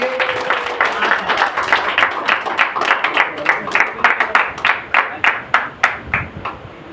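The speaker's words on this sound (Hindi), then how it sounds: "तो एक बार जोरदार ताली हो जाए गुरु जी के लिए।" An audience at a Dussehra gathering at a de-addiction centre claps for the guru, starting as a dense burst of applause that thins into sparse, individual hand claps over several seconds.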